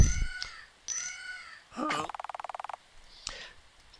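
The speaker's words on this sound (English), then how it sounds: "we got this duck here as well" A duck in an indie video game gives several nasal quacks and a fast rattling call, close and fairly loud over a quiet ambient backdrop with other game birds.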